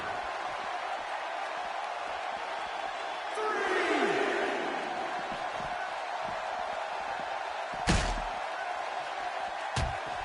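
Wrestling arena crowd cheering during a match, a steady distant roar with a swell of shouts midway and a couple of sharp slams breaking through.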